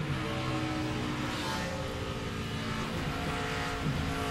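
NASCAR race cars run at speed on the Fontana track, producing a dense, continuous engine roar that swells slightly as cars pass, with no voices over it.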